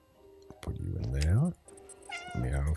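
A cat in the video game Stray meows twice, close and loud, each call rising and then falling, with a short pause between them.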